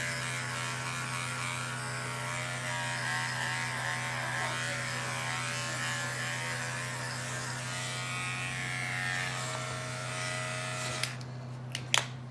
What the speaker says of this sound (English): so we got the area shaved